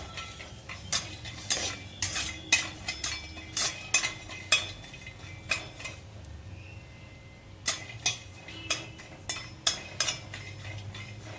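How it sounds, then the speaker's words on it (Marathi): A spatula scrapes and clinks against a pan of pistachios sautéing in ghee in a quick irregular rhythm, close by, with a faint sizzle underneath. "त्याच्यात आपण हे पिस्ता घेतले ते पण थोडेसे हलके परतून घेणार आहोत"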